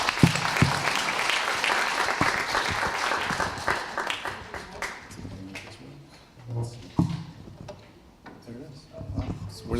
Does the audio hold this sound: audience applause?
yes